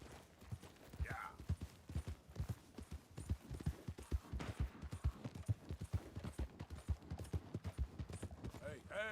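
Horse hooves clip-clopping in Red Dead Redemption 2, a fast steady galloping rhythm of close thuds running throughout, with game sounds and brief distant gunfire-like cracks mixed in.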